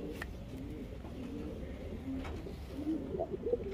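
Pigeons coo softly in a loft, several low rolling calls overlapping near the mic, growing busier toward the end over faint room noise.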